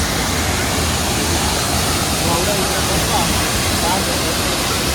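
Broad, steady roar of a large, wide waterfall in Munnar, Kerala, a dense continuous rush of falling water filling the whole clip without pause.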